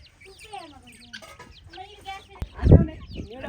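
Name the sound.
chickens clucking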